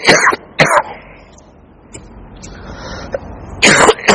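A man coughs and clears his throat during a religious talk: two sharp loud bursts close together at the start, a quiet stretch with faint small noises, then a longer harsh cough burst near the end.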